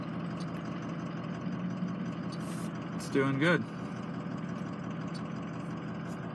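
A Ford 6.0 Powerstroke diesel truck engine idles steadily and smoothly, a low continuous rumble with an even tick, while someone speaks briefly over it.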